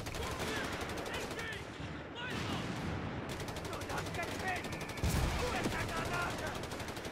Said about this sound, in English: use two 75mm gun carriages